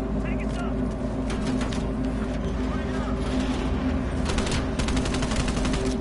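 Gunfire crackles through a Call of Duty: Black Ops Cold War campaign mission, a dense steady stream of rapid shots and bursts over engine-like background rumble, under a player's voice.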